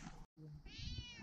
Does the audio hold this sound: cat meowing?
yes